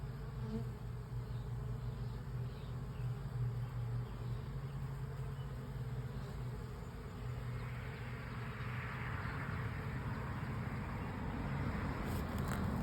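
Honeybee swarm hovering around a hive entrance, a dense continuous buzzing drone close by, swelling slightly louder toward the end.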